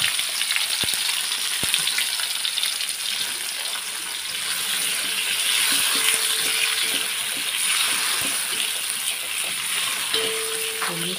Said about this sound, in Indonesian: Ditumis sampai harum ya, bawang putihnya sampai tercium aromanya yang harum. Tumis sampai kuning.